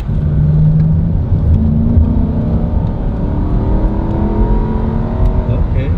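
A car engine in power mode revs and holds each gear longer, with a steady, close drone and rising, climbing tones throughout, under faint muffled voices.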